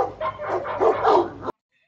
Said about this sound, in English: This is what it sounds like with barking dogs in the background